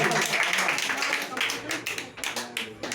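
A few quick, uneven claps from a small group of village children at a general knowledge quiz, mixed with overlapping chatter and voices close by.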